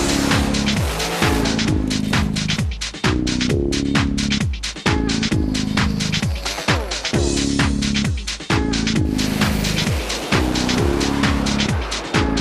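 Cars revving hard at a drag racing event at the Bulldog Bash, loud engine roars rising repeatedly in pitch through gear changes, with tyre squeal and nearly continuous noise.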